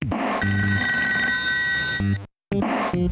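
An electronic telephone ring in the ToeJam and Earl video game, a steady repeating tone burst lasting about two seconds, then a brief silence before the ring starts again, sounding loud and clear with no talk.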